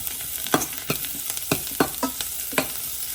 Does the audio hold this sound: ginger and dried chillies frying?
yes